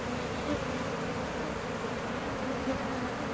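Honeybees swarm loudly during a hive removal from an abandoned house, giving a dense, steady, close-up buzzing hum that continues unbroken throughout with no talking.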